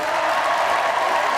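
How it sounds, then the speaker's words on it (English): A studio audience applauds steadily after a dance performance, a dense wash of clapping hands at even volume throughout, with no voices standing out. "Round of applause for my wonderful dancers."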